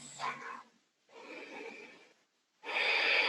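Deep, close breathing during a yoga class: three long, airy breaths in and out, separated by short silences, with the last one the loudest.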